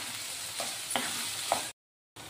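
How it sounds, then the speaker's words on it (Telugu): Onions fry in a pan for a veg biryani, a steady close sizzle punctuated by several scraping stirs, cutting briefly to silence before the hiss resumes. "ఉల్లిపాయలు కూడా గోల్డెన్ కలర్ వచ్చే వరకు వేద్దాం"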